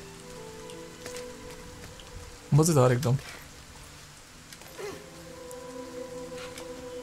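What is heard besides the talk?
rain in the video game Rime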